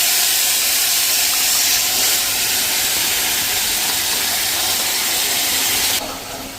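Tomato paste hits hot oil already holding cumin, mustard seeds and asafoetida, giving a loud, steady hiss of sizzling that cuts off abruptly near the end.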